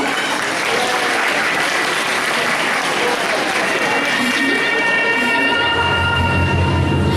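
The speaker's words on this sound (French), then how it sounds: "Applaudissons." Audience applause for a Harley Quinn cosplayer at a manga convention cosplay contest, a dense steady wash of clapping from a large crowd with a faint tonal whine entering near the end.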